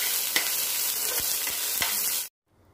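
A large onion sautéing in oil with curry leaves for a potato and capsicum gravy gives a steady, close sizzle with a few stirring scrapes, then cuts off abruptly into near silence.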